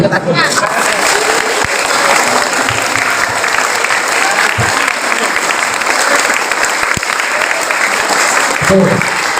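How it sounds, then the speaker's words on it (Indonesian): Students at a school entrepreneurship and small-business training session at a junior high in Nganjuk applaud steadily, a dense, loud, continuous clapping that fills the room with a crowd murmur underneath. "tepuk tangan untuk kalian"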